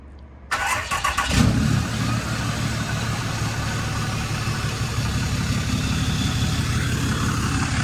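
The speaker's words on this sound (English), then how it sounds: "we'll see what a cold start sounds like" A pickup truck engine cold-starts, cranking briefly, catching and roaring to life, then settles into a steady, rumbling idle close by.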